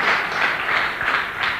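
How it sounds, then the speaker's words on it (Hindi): An audience bursts into applause at a business talk, a steady wash of many hands clapping that fills the room evenly, with no voices over it. "जोरदार तालियां इनके लिए"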